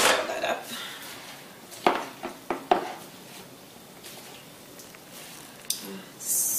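Salad tossed in a bowl with salt and olive oil gives a few close clinks and scrapes of utensils against the bowl, with soft wet squishing between the knocks and quiet gaps.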